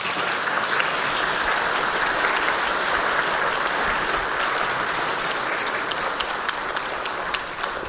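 Sustained applause fills the National Assembly chamber as lawmakers clap for bereaved families of humidifier disinfectant victims, a dense, steady roar of many hands lasting throughout without pause.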